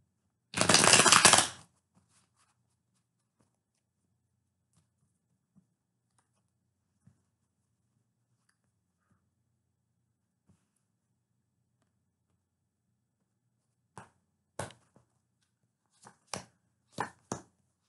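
A brief burst of tarot cards being riffled and shuffled, then quiet, followed by a few scattered soft clicks and taps of cards being handled.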